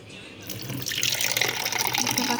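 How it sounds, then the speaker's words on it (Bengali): Water running from a tap into a home water filter, a hissing pour that swells and grows louder as the flow picks up, steady and close with no talking. "আমি এখন ফিল্টারে পানি নেবো"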